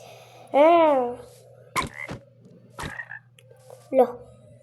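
Minecraft frogs croak in the game: one loud, drawn-out croak, then a few shorter, quieter croaks and clicks spaced over a few seconds against a low steady hum.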